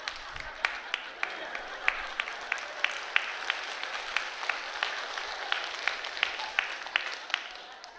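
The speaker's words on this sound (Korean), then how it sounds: "성경 읽다가 박수 치는 교회도 처음 봤네." A congregation at Gunsan Seonggwang Church in South Korea claps steadily in rhythm during a Bible reading, sharp hand claps repeating at a regular beat over a constant crowd murmur, moderately loud and continuous throughout.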